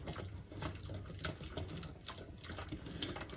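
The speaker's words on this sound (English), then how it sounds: "Okay, so you whisk it," Hollandaise sauce whisked briskly in a hot bowl for eggs Benedict, giving a steady run of quick scraping, sloshing strokes at moderate volume with no talk over it.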